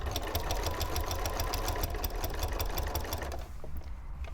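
A sewing machine stitching binding onto a quilt runs in a fast, steady mechanical chatter close by, then slows and stops near the end.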